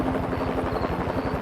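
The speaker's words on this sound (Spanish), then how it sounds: "Es un área metropolitana y todos enviaron sus helicópteros al lugar." Several news media helicopters hover over a trench collapse rescue, a steady, loud rotor thump with a continuous low throbbing rhythm and no other sounds on top.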